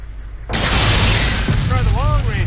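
A launcher rocket hits its target in the video game ARMA II and sets off a loud, sudden explosion with a long rumbling tail. A voice speaks faintly during the fading roar.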